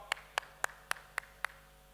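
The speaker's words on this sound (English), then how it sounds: "Can you give a round of applause, for helping me out?" Six separate, evenly spaced hand claps ring out in a slow, steady rhythm with quiet gaps between them, more like one person clapping than a full audience at a convention talk.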